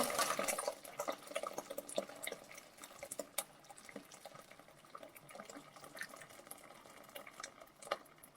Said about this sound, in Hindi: तो अब इसके अंदर डाल लेते हैं दूध के।